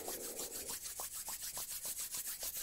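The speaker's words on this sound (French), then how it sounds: "détachons nos mains, frottons-les un petit peu" A pair of hands rub briskly together during a self-massage exercise, making a soft, quiet, rhythmic swishing with about a dozen regular strokes.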